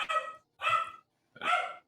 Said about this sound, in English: he has a loud dog